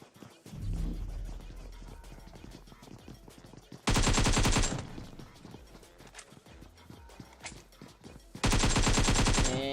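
Video game gunfire in a scrim match rattles in rapid, loud automatic bursts twice, between stretches of quieter game noise and footsteps, with a caster talking throughout.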